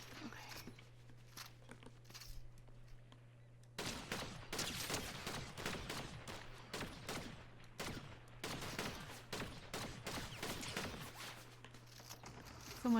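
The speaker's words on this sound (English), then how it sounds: "Someone else is shooting me." Gunfire crackles in a video game as rapid, moderately loud shot bursts jump in after a quieter start and keep going over a steady low hum, with faint talk in the background.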